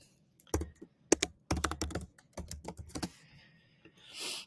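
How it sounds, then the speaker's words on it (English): Quick bursts of typing on a computer keyboard while an email address is entered, with clustered close key clicks and short pauses between them. "So I'm going to type in quick email here."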